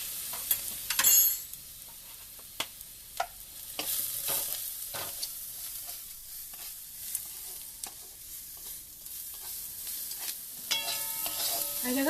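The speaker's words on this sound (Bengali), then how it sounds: "এই দেখেন মশলাটা ভাজা হয়ে গেছে লাল করে একদম" Spice paste with coriander powder and Kashmiri chili fries in a pan, a soft sizzle broken by repeated sharp clicks and scrapes of a spoon stirring.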